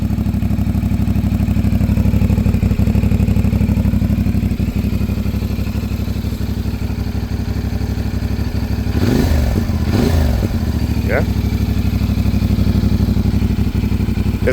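A CFMOTO 450SS running on its stock exhaust idles steadily and close by, a low throbbing drone that holds through the whole stretch, with a brief blip near the middle and one short spoken word.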